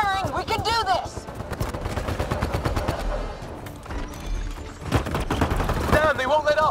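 Continuous weapons fire in a hostile sci-fi battle, rapid rhythmic bursts of shots layered with sci-fi effects and music, steady and loud throughout.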